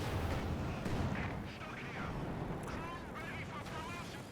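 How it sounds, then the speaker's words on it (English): In a Company of Heroes 2 match, a 120mm mortar fires and lands. Several dull booms and crackling impacts sit in dense battle noise, while a commentator talks over them. "the W120mm mortar is hitting hard"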